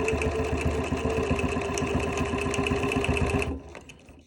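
Sewing machine running steadily while stitching a quilt, a fast even rhythmic chatter of the needle for about three and a half seconds before it slows and stops, close and clear with no talking.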